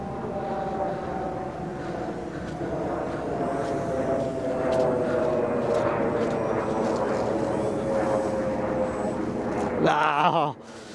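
A Dynam Spitfire VB scale model airplane flies in to land, its electric motor a steady droning whine that slowly drops in pitch as it approaches, loud and continuous before cutting off abruptly near the end.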